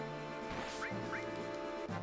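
Bird enemy squawking in the Final Fantasy VII video game, a couple of short quacking calls over steady game music, with no talk.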